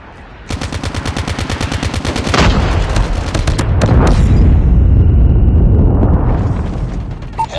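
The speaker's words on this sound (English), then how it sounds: "Friendly Predator missile inbound" Call of Duty Mobile match with a rapid burst of machine-gun fire followed by a heavy, rolling Predator missile blast and long rumbling explosion that slowly fades.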